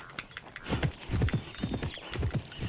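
Horse hooves clip-clop in the Petz Horse Club video game, a steady, fairly close run of hoofbeats lasting a few seconds with no voices over them.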